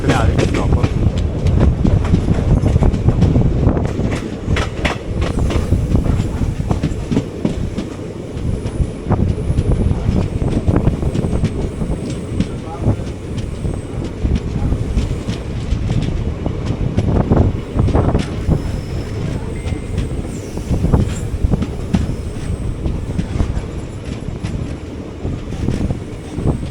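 Nagercoil Express 17235 running on rails near Parassala station in Kerala, a loud continuous rumble and rattle heard from on board with heavy wind buffeting throughout, steady and unbroken for the whole stretch.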